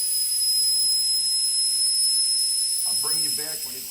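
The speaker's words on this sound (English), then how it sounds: "That air is coming out of there" Air whistling out of a 2021 Mustang Mach 1 tire valve stem with the core pulled: a continuous thin, high-pitched whistle and hiss holds steady, with a voice joining near the end.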